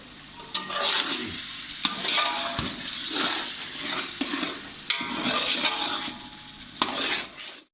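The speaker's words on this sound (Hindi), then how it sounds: "अब इसे हम 2 मिनट के लिए सिर्फ भून लेंगे" Koftas sizzle in oil in a pan for kofta biryani, with a spoon stirring and scraping in repeated strokes, close and fairly loud, with occasional metallic knocks against the pan.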